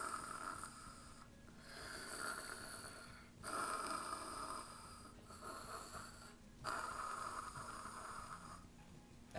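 A person imitating loud heavy breathing, rasping snore-like inhales and exhales in slow repeated cycles, close and breathy, with no talk.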